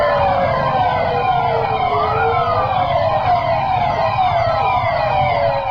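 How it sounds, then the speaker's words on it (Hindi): Police car sirens wail from a convoy circling a gurdwara in Delhi, several rising and falling tones overlapping loudly and continuously, close by over a low rumble of vehicles. "सड़कों पर पुलिस का सायरन आपने कई बार सुना होगा, लेकिन दिल्ली की सड़कों पर बजता ये सायरन बहुत खास है।"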